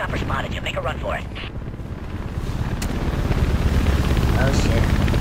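Helicopter in the video game Mirror's Edge, a steady broadband rotor and wind-like roar that swells gradually louder over several seconds, with faint talk in the background.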